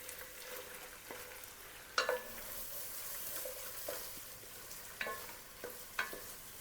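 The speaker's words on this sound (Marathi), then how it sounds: "आपल्याला लालसर होईपर्यंत कांदा भाजून घ्यायचा आहे" Chopped onion fries in melted butter and oil in a pan for pav bhaji, a soft, steady sizzle broken by occasional scraping clinks of a spoon stirring, with no talk.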